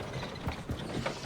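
Mine carts rolling back along their tracks in Hogwarts Legacy, a steady rumbling clatter with rhythmic mechanical clacks.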